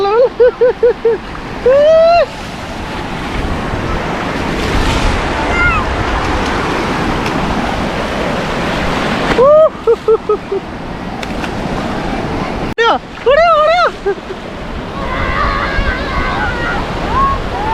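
Ocean waves wash onto a Cape Town beach in a loud, continuous roar of surf and sloshing water, close by, while excited voices call out over it at intervals.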